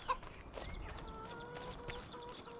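Chickens clucking on a farm in the video game Farming Simulator 25, soft scattered clucks in the background with faint footsteps and low ambient noise.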